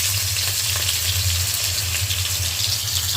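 Potatoes fry in hot oil with black cumin and a dried chili, giving a loud, steady, close sizzle over a low hum, with no talking.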